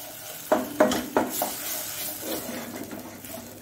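Fish frying in coconut oil in a pan for a Mangalore-style croaker roast, with several clinking stirs and scrapes over a low, steady sizzle.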